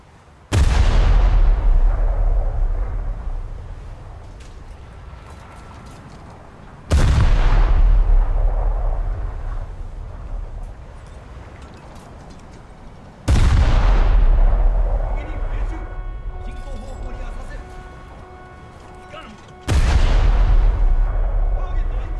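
Naval guns in a warship video game fire four big salvos at regular intervals, each a loud booming blast with a long rumbling decay that fades before the next shot.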